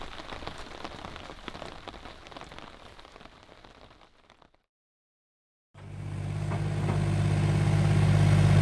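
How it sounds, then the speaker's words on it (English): Steady rain patters across a surface through the first half, then cuts out briefly before rain returns with a car engine idling close by, its low hum rising under the downpour at a renovation site. "We'll have to wait until it stops raining."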